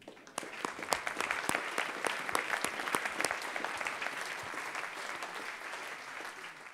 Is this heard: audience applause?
yes